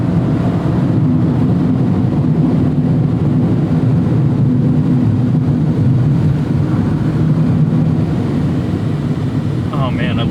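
A Mazda MX-5 or Honda S2000 sports car is driven with the windows up, its engine a steady low drone under constant road and wind noise. The sound is continuous, fairly loud, and carries through the whole stretch.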